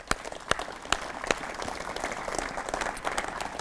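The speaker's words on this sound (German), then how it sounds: "das ist ein Applaus wert" Audience applause at a volunteer fire brigade's main exercise evening in Grabs, made of sharp, scattered claps that start sparse and then merge into a steady, moderately loud round of clapping.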